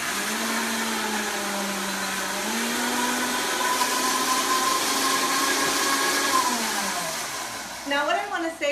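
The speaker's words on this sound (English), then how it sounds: "pay attention to the sound of the Vitamix" A Vitamix blender runs continuously with a loud whirring motor hum whose pitch shifts and climbs as it processes low-carb marinara sauce, followed by a brief voice near the end.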